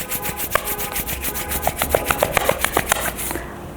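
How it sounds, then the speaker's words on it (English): Palms rubbed briskly together during a yoga exercise, a close, soft swishing friction in a steady rhythm of quick strokes, alone with no talk. "Rub your palm."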